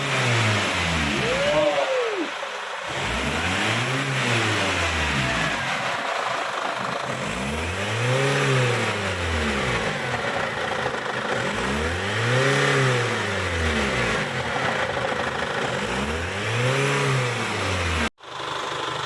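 Chevrolet Captiva diesel engine revving repeatedly in a steady rhythm of rising and falling surges, loud and close, with no one talking over it.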